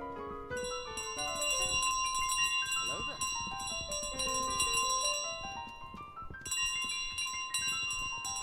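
Bright, ringing bell tones from the golden bell in Untitled Goose Game, chiming repeatedly with layered sustained overtones over game music, loud and close throughout.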